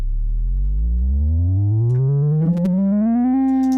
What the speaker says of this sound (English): The first one is the whammy pedal.